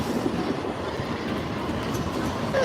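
A light rail tram rolls steadily past close by, a continuous heavy rumble with faint wheel clatter that holds for a few seconds, with no voices.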